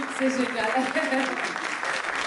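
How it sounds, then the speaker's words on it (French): A room of guests at a charity gala applauds in a short, steady burst of clapping, while a voice speaks briefly over it. "On les applaudit s'il vous plaît."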